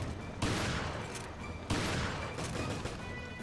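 Rapid gunfire from the video game Resident Evil Revelations, two dense sustained bursts of loud, close shooting.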